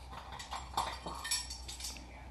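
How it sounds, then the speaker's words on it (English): A metal teaspoon clinks and scrapes against a container while baking powder is measured for brownies, with a few light taps and rattles at close range and no talking. "We are now going to measure out a teaspoon of baking powder."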